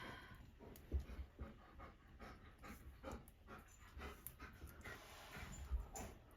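A puppy rolling around on its back pants softly and quickly near the microphone, a faint, breathy rhythmic huffing with small rustles and no talking.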